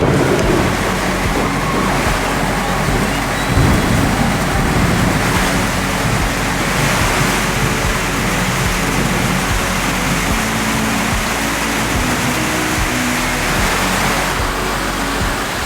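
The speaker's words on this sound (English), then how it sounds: "just as a storm rolls in" A storm rolls in over São Tomé with heavy rain, heard as a dense, continuous loud roar of rainfall and rushing water lasting the whole stretch, with no voices.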